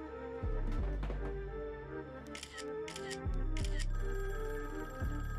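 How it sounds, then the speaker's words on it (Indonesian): Telephone ringing in a Squid Game scene, soft repeated bursts of a bell-like ring over low background tones. "Tak berselang lama terdengar suara telepon."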